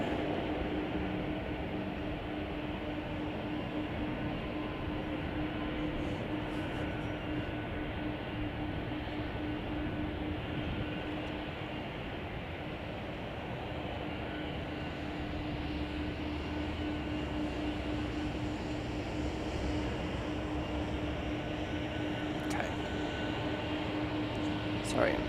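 A Boeing 747 jumbo jet comes in to land at Chicago O'Hare, a steady, broad engine rumble with a constant hum running throughout, partly under talk.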